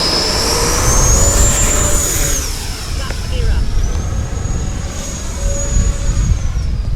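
FMS Super Scorpion 90mm electric ducted-fan RC jet screams loudly on takeoff, a rising and shifting whine with rushing air, close and continuous while someone talks over it.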